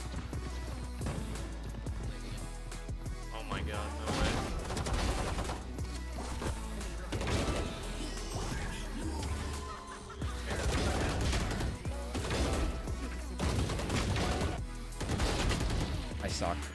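Rapid gunfire from the video game Valorant fires in repeated bursts over busy game effects, loud and dense throughout with brief lulls, and voices faintly mixed in.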